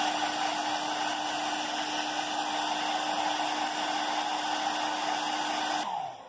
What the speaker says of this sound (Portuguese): eu venho e seco esse olhinho aqui com secador, pra não correr o risco de eu borrar